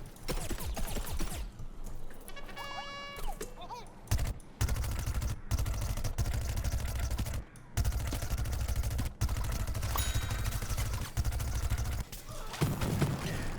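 Dense gunfire and rapid automatic shooting from a chaotic Plants vs. Zombies Garden Warfare 2 battle, nearly continuous bursts with brief gaps and booms, loud and close throughout.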